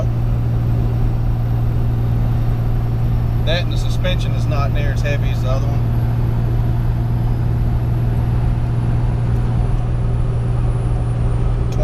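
A Ram 2500 pickup with a 5.9 Cummins diesel and 48RE transmission pulls 20,000 pounds uphill at about 2400 RPM in third gear, droning in a steady, loud, even hum heard from inside the cab as someone talks.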